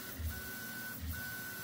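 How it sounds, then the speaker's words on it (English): A dual-extruder 3D printer homes and moves its heads, with a steady motor whine and two low rhythmic pulses as the axes travel, close and fairly quiet with no talk. "I'm ready to start melting plastic on this dual-headed printer"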